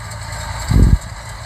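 Four-cylinder diesel engine of a hay baler running close by, a steady low rumble with one brief heavier surge in the middle before settling back to an even drone.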